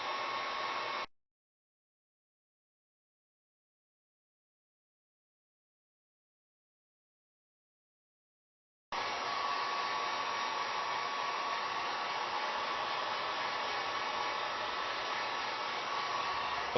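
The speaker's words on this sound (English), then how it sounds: "in circular motions about a half an inch away on low setting on the Drill Master or any type of other heat gun" Drill Master heat gun reflowing chips on a PS3 motherboard, a steady blowing roar that starts, cuts out for several seconds of silence, then resumes and runs continuously.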